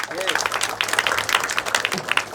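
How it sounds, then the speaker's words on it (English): Audience clapping for student volunteers at a motivational talk, scattered uneven claps from a group in a hall, with voices talking over them. "Can you please clap for them?"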